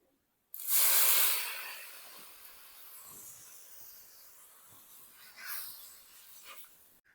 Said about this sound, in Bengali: তারপর সরষা লঙ্কার হলুদের জলটা কড়াইতে দিয়ে দিলাম।